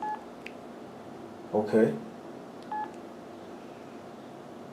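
A Samsung SCH U540 cell phone gives two short keypad beeps while its menu is navigated, with a brief spoken word between them.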